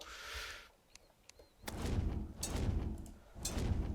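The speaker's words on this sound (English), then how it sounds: "Close the door." A door shutting in the Terraria video game, heard as a few short clicks and thuds followed by louder, broad bursts of in-game action noise, with no speech.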